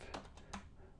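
A few quick, soft key clicks on a computer keyboard, close and quiet, with no talking.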